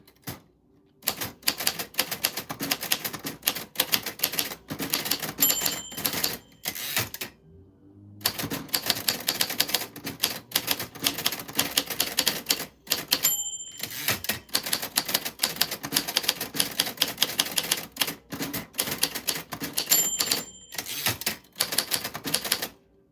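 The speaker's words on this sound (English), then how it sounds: "That's how your name sounds like on an old typewriter" An old typewriter being typed on: bursts of rapid, close, crisp keystrokes separated by short pauses, with a few bright bell-like dings along the way.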